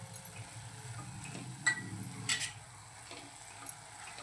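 A spoon stirring Malvani-style fenugreek leaf bhaji with coconut and coarsely ground roasted peanuts in a pan, faint soft scraping and a gentle sizzle with a couple of light clinks, quiet and close.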